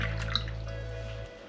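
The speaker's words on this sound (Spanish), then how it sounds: "lo primero que vamos a hacer es añadir el medio litro de leche" Half a litre of milk poured into a saucepan on the stove: a brief, close liquid pour with light splashing over a low steady hum, ending abruptly after about a second.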